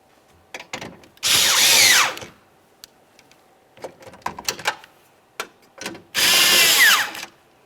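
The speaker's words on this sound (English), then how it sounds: "Tighten your two mounting bolts." A power drill tightens the window regulator mounting bolts inside the front door of a 2005-2010 Dodge Dakota, with two loud sustained whirring bursts close up. Clicks and clunks of handling fill the gap between them.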